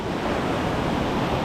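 Waves break against the shore with a strong south wind blowing, a loud, continuous wash of surf and wind rush.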